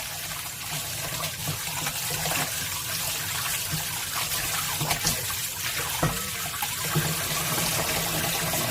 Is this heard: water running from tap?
yes